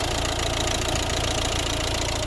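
A 2012 Volvo V60 Ocean Race with a 1.6 diesel engine running, a steady close-up idle with a dense even clatter and no talk.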